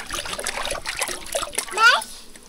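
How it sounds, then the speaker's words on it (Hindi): Slippers being washed in water, with splashing and trickling close by under children's and adults' voices. "पानी निकल जाता है इसमें ऐसा धो रहे"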